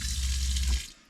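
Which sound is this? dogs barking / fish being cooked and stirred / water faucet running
water faucet running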